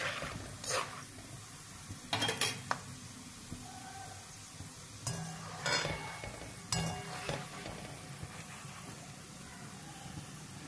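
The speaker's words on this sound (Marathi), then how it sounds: "दाणे थोडेसे फुटतात तळल्यानंतर, आवाज येतोय पहा" Peanuts fry in oil under a faint hiss, with a few short crackling bursts scattered through it. It stays quiet and close, with no speech.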